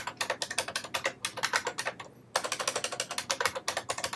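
Rapid, crisp clicking of a computer keyboard as a username is typed, close and steady, with a brief pause midway before the keystrokes resume.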